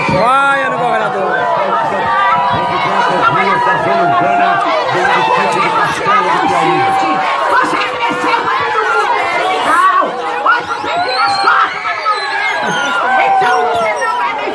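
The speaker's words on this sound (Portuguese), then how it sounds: "vaia no governador." A street crowd jeers and boos a governor outdoors in Brazil, a dense, loud mass of overlapping shouting voices and chatter that rises and falls continuously throughout.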